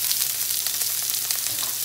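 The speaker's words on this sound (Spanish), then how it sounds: "En nuestro sartén vamos a agregar cebolla. Aquí yo rebané una cebolla completa en rodajita y vamos a sofreírla muy bien." Sliced onion rounds sautéing in a frying pan, a steady close sizzle with crackling throughout and no speech.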